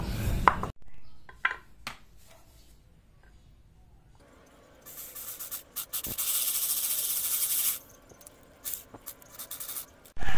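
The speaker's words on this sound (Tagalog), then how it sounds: "kailangan muna po natin butasan to ng sinlaki ng ating tornilyo" Drill boring a bolt-sized hole through metal for a homemade brake caliper piston pusher, heard as a steady grinding whir of a few seconds amid scattered clicks and handling knocks in a workshop.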